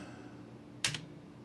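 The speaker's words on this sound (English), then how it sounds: "start tapping delete on my keyboard" One sharp, close tap on the delete key of a computer keyboard, a quick plastic click over a steady low hum.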